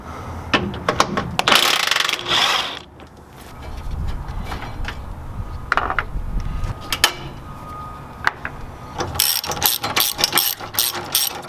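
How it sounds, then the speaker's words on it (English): A ratchet wrench clicking as bolts are tightened on a bull bar bracket of a Ford F-250 or F-350 truck, in quick rattling bursts with metallic handling noises between them. "with my right hand I'm able to start screwing in the bolts"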